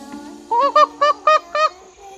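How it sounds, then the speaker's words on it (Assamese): Five loud, harmonic honking calls from birds in a quick series, close by, like a goose or fowl, over a steady low background hum in a tree-filled area. "এই চাইডে চৰাই মাত দি আছে"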